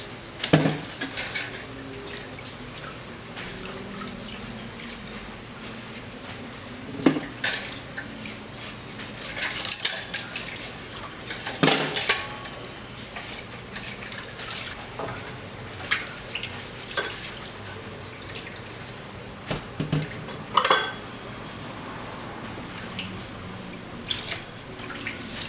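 Cutlery being washed under a running sink tap, with steady water flow and intermittent metallic clinks and clatters of silverware knocking together and against the basin, close and clear.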